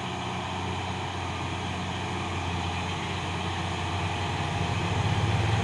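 Palm oil trucks, 4x2 haulers, labor up the Bukit Kodok hill in the morning, a steady low engine drone with a rising rumble toward the end, continuous and moderately loud.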